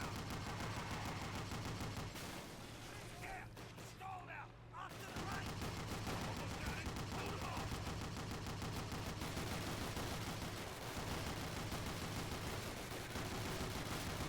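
Sustained rapid turret machine-gun fire in Call of Duty: United Offensive, a dense, loud, continuous stream of shots with a brief lull in the middle before the firing resumes.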